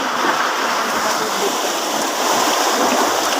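Strong floodwater rushing during Typhoon Carina, a loud, steady broadband roar of churning water that holds constant throughout, with no voices over it.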